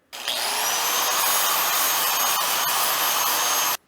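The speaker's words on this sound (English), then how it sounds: "We'll just grind a little bit off the top and bottom of that tube" An angle grinder works a steel tube during an offroad kit install, one loud continuous whining grind holding steady for several seconds before cutting off abruptly, with no voices.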